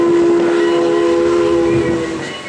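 A loud, sustained whistle from the Big Boy steam locomotive blows steadily for a couple of seconds, then starts to fade.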